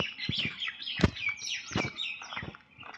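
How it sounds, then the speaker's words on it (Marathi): Parrots calling near a roadside on the way to a field, a flock giving repeated shrill, overlapping squawks and chirps close by, with one louder burst standing out and no talk heard. "ते बघा समोर पोपट आहे"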